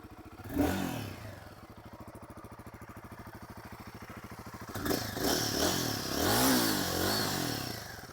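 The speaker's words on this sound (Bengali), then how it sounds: "এটা হচ্ছে আপনার গরিলার এক্সস্টের সাউন্ডটা" A Royal Enfield Guerrilla 450 motorcycle idles close by with a steady, even exhaust thump, then revs up sharply for a few seconds with a rising and falling roar before settling back.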